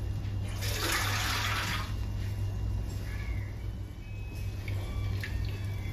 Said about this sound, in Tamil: இதில் கொஞ்சமாக தண்ணி கலந்து